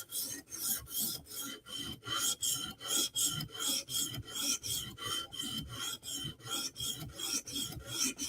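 A Chris Reeve Umnumzaan knife blade drawn over a sharpener in steady back-and-forth strokes, about three per second, each one a crisp rasp, close and even with no talking.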